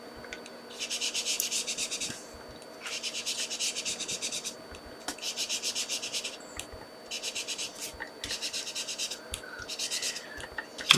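Something is rubbed onto a photopolymer stamp from a gears and textures set in close, scratchy bursts, about five strokes of a second or so each with short pauses between, and no one speaks.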